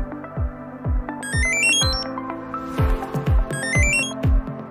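A Zeus car key finder plays its locating melody: a bright, repeating electronic chime tune with rising note runs, loud and close, with no talk.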